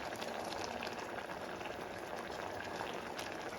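A pot of bottle gourd curry with a ground coconut and cumin paste bubbles at a steady low boil, a soft continuous simmer with faint popping heard close and quiet.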